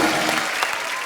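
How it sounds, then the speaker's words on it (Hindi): Loud, dense audience applause fills a television comedy talk show studio as a famous Australian cricketer is welcomed to his seat, a steady roar of clapping with a faint voice underneath. "जोरदार तालियां हो जाए ब्रेट के लिए।"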